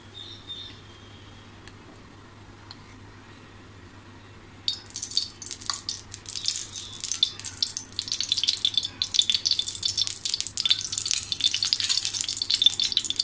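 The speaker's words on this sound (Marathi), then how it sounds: "आपल्याला कढईत 2 चमचे तूप टाकायचं आहे." Ghee dropped into a hot kadhai for carrot halwa starts sizzling and crackling about a third of the way in, a steady bright hiss after a quiet stretch with a low background hum.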